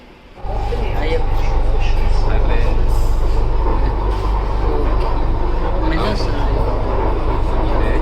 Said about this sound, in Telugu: మెట్రోలో ఉన్నాం